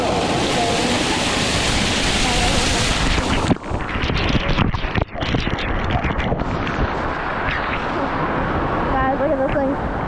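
Water cascading down a flight of stairs like a waterfall, a loud continuous close rush that breaks into rougher bursts and splashes midway, with a person's voice rising briefly over it near the end.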